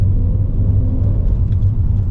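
A car engine drones low and steady at close range as the driver presses the gas, holding a sustained rumble with no distinct revving peaks, and no talk.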